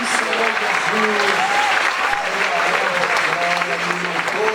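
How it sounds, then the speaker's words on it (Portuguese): A church congregation claps loudly and continuously during a worship service, while a voice and tonal sounds ring out over the steady applause throughout. "pode aplaudir mais forte que o Senhor Jesus"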